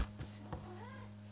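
A cat meows once with a rising and falling cry, close and fairly clear, over steady video game sounds with a constant low hum.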